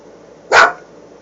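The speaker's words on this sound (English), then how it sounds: "She's sitting in the nook, looking out the window, barking at people on golf carts" A small dog sitting in a window nook gives a single loud, sharp bark, close by and alone.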